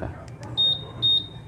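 A Honda Click 150 motorcycle answer-back alarm gives two short, sharp high-pitched beeps in quick succession, after a couple of faint clicks, close and clear.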